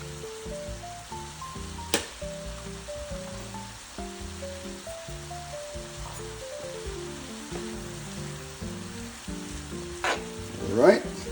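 Vegetable fried rice sizzles steadily in a hot pan, a soft, constant crackle with occasional stirring scrapes and a louder clatter near the end, no voices.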